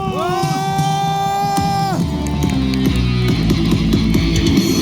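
A baseball stadium crowd during an away game against SSG cheers and applauds loudly and continuously, with organized chanting and whoops over a dense crowd roar.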